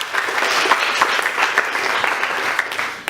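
Audience applause at a school debate event, a bright, dense burst of many hands clapping evenly and steadily throughout, fairly close and loud with no pause.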